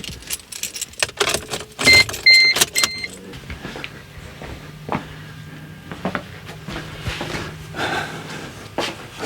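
Keys jingle up close, then an Opel Agila's engine catches and settles into a low, steady idle hum.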